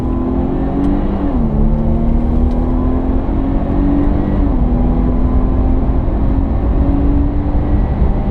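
Jaguar XF 360 cv engine accelerating hard on the Pamplona circuit, a loud, steady close-up drone that dips briefly at a gear change, then climbs and holds through the run.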